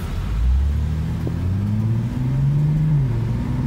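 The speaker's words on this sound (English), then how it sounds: "Very fast shifting car." A 2021 Toyota Supra 3.0T Premium sports car accelerates from inside the cabin, its engine note climbing in steady rising pulls broken by quick gear shifts, a continuous moderately loud rumble with no talking.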